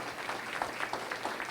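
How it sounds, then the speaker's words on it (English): Audience clapping at a city clerk candidates forum, a steady, moderately quiet patter of many hands that holds for the full length without pause. "A round of applause for them answering question number"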